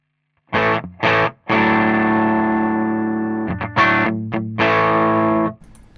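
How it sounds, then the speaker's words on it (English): An electric guitar driven through a Danelectro Spring King pedal's overdrive, reverb switched off, rings out in loud, slightly gritty chords: two short strums, a long sustained chord, then a few quick stabs and another held chord, with no talking. "So there is some overdrive, just a little bit."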